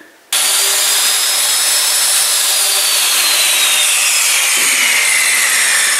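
A power saw cuts through plywood for a pallet bar build, a loud, continuous rasping whine that kicks in abruptly after a short pause and holds steady for the rest of the cut.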